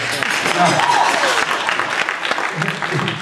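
Audience applause at a jazz festival workshop, a dense, steady wash of clapping from a crowd that holds through the whole stretch, with a voice briefly talking over it partway.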